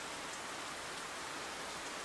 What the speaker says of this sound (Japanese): 結局雨止まなかったね。